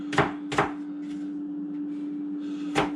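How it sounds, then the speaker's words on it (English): A knife chops cored, unpeeled apples on a board in a few loose strokes: two crisp chops close together, softer taps, then one last firm chop, over a steady low hum. "Now I'm just chopping these up loosely, folks."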